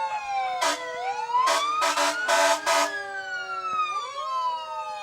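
A fire truck from Burlington's Tower 1 sounds its siren during a Fourth of July parade, a loud rising and falling wail broken by several sharp air-horn blasts, heard up close and alone.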